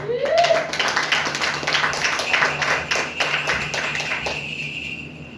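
A church congregation claps loudly to acclaim the Lord during a deliverance sermon, with rapid, sustained applause and voices cheering over it before the clapping fades at the end.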